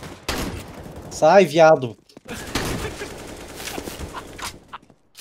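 Rapid gunfire rattles in an online shooter game, dense bursts of shots near and loud, mixed with a warbling effect sound and someone talking excitedly over the action.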